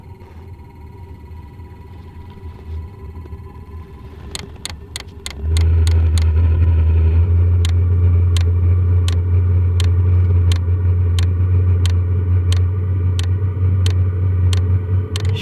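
Portable diesel heater starting up: a low fan whir, then a loud steady roaring burner rumble kicks in, with a fuel pump ticking in regular sharp clicks throughout.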